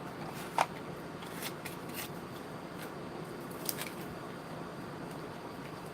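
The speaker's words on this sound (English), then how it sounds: "I'll do that with my scissors." Scissors snip paper for a journal page in a few short, faint cuts scattered through a quiet room, with no talking.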